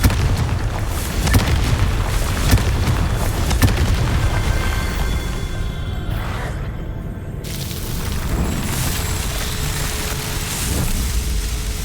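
Confringo blasting-spell explosion in the wizarding game Hogwarts Legacy, a loud continuous rumbling boom with crackling debris, briefly dropping away before the roar resumes.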